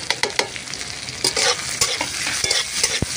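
Kasuri methi and Kashmiri chili powder frying in butter in a pan, a steady close sizzle broken by several sharp clicks and scrapes of a spoon stirring.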